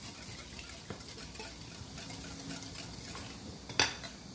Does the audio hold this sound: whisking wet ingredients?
yes